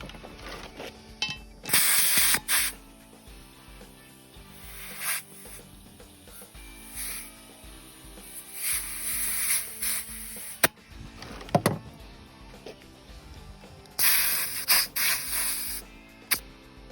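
Air compressor hose inflating a car tire during an emergency tire change, giving intermittent bursts of sharp air hiss with small mechanical clicks between them, near and without talking.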